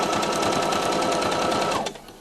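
A sewing machine runs fast and steady, its needle chattering in a rapid even rhythm while stitching a baby dribble bib, then stops abruptly near the end.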